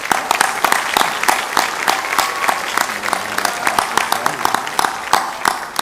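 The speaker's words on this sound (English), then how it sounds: "Please join me in a round of applause for the companies you see listed on the screens behind us." An MLK Day of Service community gathering at a high school bursts into loud, dense applause from a large audience, many hands clapping together in a thick, continuous roar that holds throughout.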